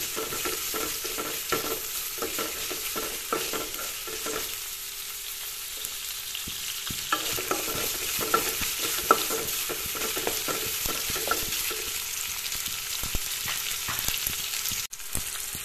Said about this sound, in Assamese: এইখিনি একেলগে ভাজি যেতিয়ালৈকে পিয়াজৰ কালাৰটো অলপ ৰং চঙোৱা নহয়